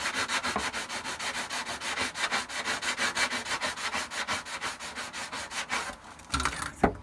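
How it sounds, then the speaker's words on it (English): Steady rhythmic scrubbing of sanding with a sponge on a plastic armor edge, fast regular strokes repeating for several seconds, close and loud, ending with a few irregular rubs. "You want to only do it on the actual part you're sanding."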